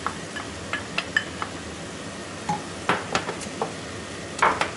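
Julienned carrots hit a hot pan for Colombian empanada filling, giving a soft sizzle under a series of light scrapes and clinks from stirring utensils against the pan, spaced irregularly and fairly close.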